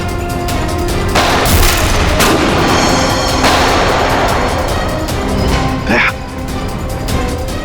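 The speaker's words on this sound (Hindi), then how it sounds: "वहां से चल रही है गोलियां।" Loud, booming gunfire rings out close by in several heavy blasts, with echoing rumble and a sharp cry-like sound near the end.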